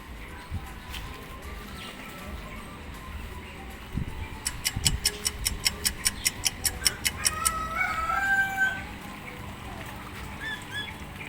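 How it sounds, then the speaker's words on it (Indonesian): A rooster outdoors in a yard where chickens and fish are being fed, giving a brief, moderately distant crow after a rapid run of ticking pulses, under steady outdoor noise with faint voices. "Bunyi ayamnya"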